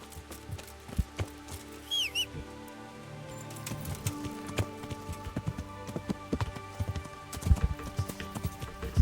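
Horse hooves clip-clop in the medieval video game Kingdom Come: Deliverance, irregular clattering hoofbeats near and moderately loud with scattered sharp knocks, a brief whistling chirp early on and no talk.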